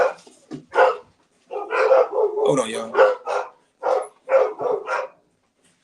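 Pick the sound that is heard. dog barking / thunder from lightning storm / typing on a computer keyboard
dog barking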